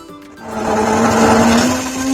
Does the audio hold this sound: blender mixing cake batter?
yes